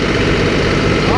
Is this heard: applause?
no